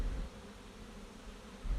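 Honeybees in a hive being requeened, with an agitated colony waiting for the release of its new queen; a low, steady hum of many bees continues close by through the clip, with no talk.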